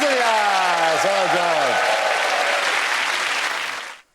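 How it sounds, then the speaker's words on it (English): A studio audience at the Mock the Week comedy panel show applauds loudly and steadily, with a voice briefly heard over the start, before the clapping fades out abruptly at the end. "And that round of applause go to Tessania."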